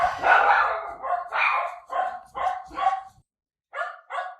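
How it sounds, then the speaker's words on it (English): Several dogs bark in a series of sharp, separate outbursts, loud and fairly close, with a short pause before two final barks. "I'm not going to be able to get through this without the dogs barking."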